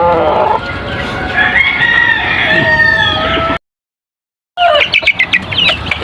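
Chickens cluck and a rooster crows repeatedly at close range near a hen house where hens lay eggs; the birds continue after a brief gap of silence, with no talk over them.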